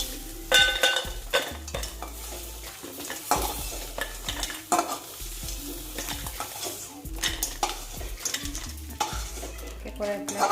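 Crabs fry in mustard oil in a pan for an Assamese-style crab curry, with a steady sizzle under repeated scraping and stirring clinks of a metal utensil against the pan, close and busy, without talk.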